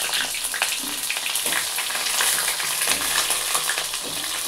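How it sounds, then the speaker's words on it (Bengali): Pieces of pointed gourd go into hot oil with cumin and start frying, giving a steady, loud, dense sizzle and crackle with small pops throughout and no voices. "পটলগুলো আমি এবার এতে আস্তে আস্তে দিয়ে দিচ্ছি"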